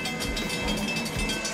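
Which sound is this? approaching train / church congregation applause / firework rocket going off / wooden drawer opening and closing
approaching train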